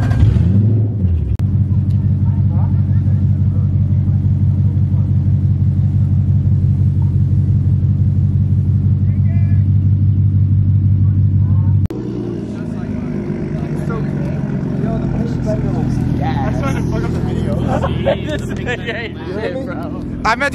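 A loud van engine rumbles at a steady deep idle close by, then shifts lower as it moves off, with people talking nearby over the rumble.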